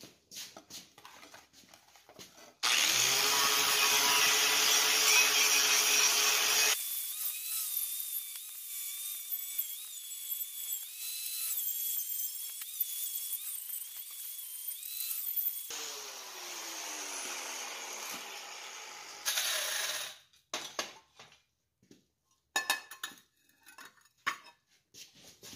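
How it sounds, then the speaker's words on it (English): Wire brushing on a heated forged steel camp skillet, likely with a power wire wheel, makes a loud, sustained harsh scraping whine that shifts pitch as the load changes, then gives way to scattered clanks and scrapes. "I'm gonna heat it up and give it a good wire brushing"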